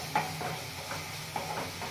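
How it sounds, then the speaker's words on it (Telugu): Turmeric and salt being stirred into a tomato curry in a pan, giving soft repeated scraping strokes in a steady rhythm over a faint background sizzle, close by with no talk. "ఇప్పుడు సాల్ట్ కొద్దిగా వేసుకుంటున్నాను. బాగా కలుపుకుందామండి."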